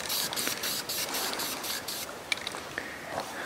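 Orange spray paint hisses steadily from an aerosol can onto a new oil pan for a 1991 GMC Jimmy, in a series of close bursts with short gaps between them.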